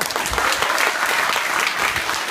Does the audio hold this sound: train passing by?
no